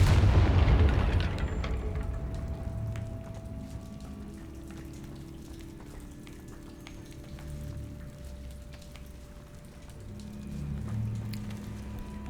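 A Confringo fire spell in the Hogwarts Legacy video game bursts with a loud, close boom at the start, then crackles and sizzles as the flames fade into a low rumble, flaring again near the end.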